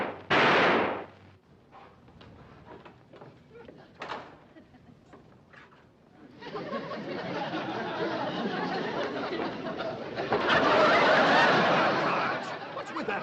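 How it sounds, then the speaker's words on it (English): A loud gunshot bangs at the start, a second sharp crack follows a few seconds later, then a long rushing wash of noise builds and swells. "Maybe those gunshots are scaring you, Mr. Briggs."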